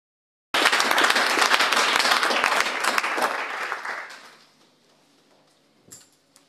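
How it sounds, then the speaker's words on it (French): A church congregation bursts into loud applause and cheering for the Lord, sustained dense clapping for several seconds that gradually fades out, followed by a brief clatter near the end. "Est-ce qu'on peut acclamer pour le Seigneur?"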